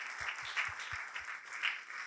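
Audience applause at a session of a public event, a steady, dense patter of many hands clapping that carries on without a break for the whole stretch.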